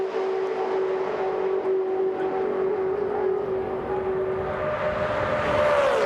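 IROC race cars at Daytona in 1999 roar past in a steady, loud engine drone with a sustained tone that rises and shifts near the end as the field sweeps by.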